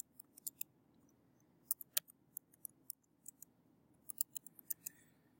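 Button presses on a graphing calculator while clearing a list and entering numbers in a statistics review: sharp, close plastic clicks in irregular bursts over faint background hiss, with no talking.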